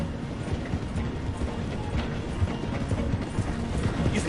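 Galloping horse hooves drum steadily beside a moving train with rolling rail clatter in Red Dead Redemption 2, a dense, continuous near mix with no speech.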